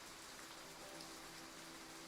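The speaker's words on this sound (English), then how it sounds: "The rain's gentle pitter-patter has ceased before I realized" Gentle rain patters steadily in the Love and Deepspace video game, a faint, even hiss of drops with no voices over it.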